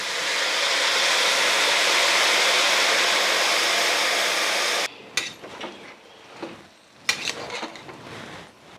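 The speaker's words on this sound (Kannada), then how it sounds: "ಈಗ ಕೊತ್ತಂಬರಿನ ಸೇರಿಸಿ ಇದ್ರ ಜೊತೆನೇ ರುಬ್ಕೊತೀನಿ" Mixer grinder whirring loudly as it grinds tomato and coriander masala for sprouted-gram saaru, a steady high whine for about five seconds that stops abruptly, followed by clinks and knocks of the jar being handled.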